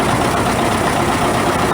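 A 1949 John Deere Model A tractor engine runs steadily and close by in an old engine show parade, a loud, continuous low chugging rumble with no break.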